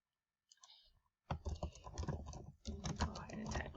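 Rapid typing on a computer keyboard, close and fairly quiet: a few isolated taps, a short pause, then a dense run of clicking keystrokes.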